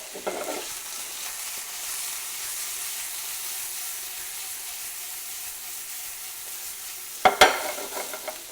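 Lamb pieces brown with spices in a pan for a Moroccan tagine, giving a steady, close sizzling hiss throughout. A brief clatter of stirring or shifting meat comes near the end, with no talk.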